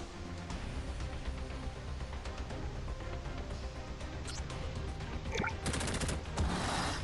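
Sniper rifle fire in the X-Mercs squad video game sounds as a continuous loud barrage of overlapping shots, with a sharp cluster of cracks near the end.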